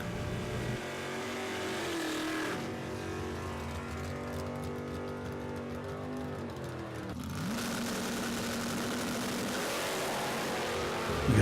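Stock and Super Stock drag racing cars, including a Firebird, roar with sustained loud engine noise, revving and shifting pitch as they accelerate down the strip, then a second engine surges in near the end.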